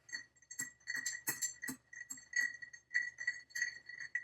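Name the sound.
stirring a cocktail in a mixing glass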